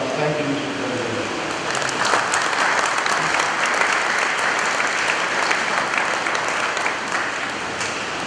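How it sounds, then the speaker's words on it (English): A large crowd at an FSM Independence Day 2019 ceremony gives a long, full round of applause, steady and close, with faint voices beneath it. "So may we all give them another round of applause."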